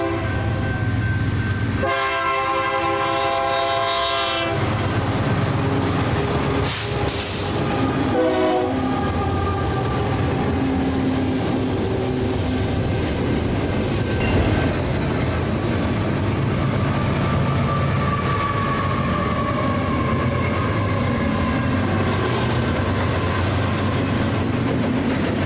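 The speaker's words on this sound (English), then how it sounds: "this Mega S intermodal being led by a 4900 Series -9 with a KCS AC44 trailing second" A Union Pacific intermodal freight train led by a 4900 Series -9 locomotive, with a KCS AC44 trailing, sounds a loud multi-tone horn blast as it approaches, then rumbles past close by in a long steady roar of wheels and cars.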